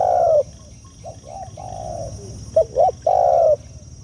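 Soft, low spotted dove coos come in short phrases with a few quick notes, close by, over a steady hum of background noise.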